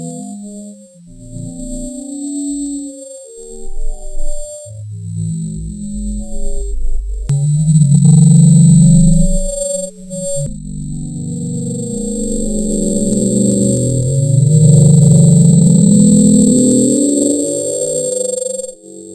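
A mysterious deep-ocean underwater sound known as the Bloop, a low rumbling drone that rises and swells in loudness with a hissy high band above it, heard alone without talk.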